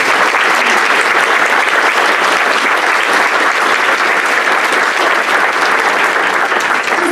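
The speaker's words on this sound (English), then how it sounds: "Ladies and gentlemen, a round of applause for Pierre." Steady, dense applause from a large audience at a business lunch economic forecast event, loud and continuous throughout with no break or talk.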